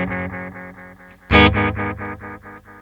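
Red Witch Titan analog delay pedal on guitar with a short delay time, a chord ringing into quick, closely spaced repeats that fade, then a louder strike echoing the same rapid pattern, alone without voices.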